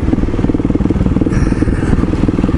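A motorcycle engine runs steadily while riding the Rimrocker trail between Montrose and Buckeye Reservoir, a loud, continuous rough rumble with pulsing throttle and faint clatter from the ride throughout.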